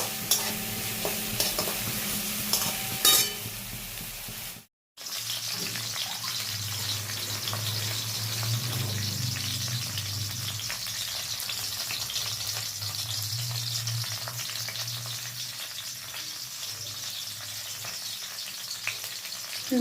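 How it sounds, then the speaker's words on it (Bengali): Salted carrots sizzle in oil in a pan while a utensil stirs and scrapes through them repeatedly, close and steady, with a brief silent gap early on. "নুন দিয়ে একটু গাজরটা ভাজাভাজি হোক"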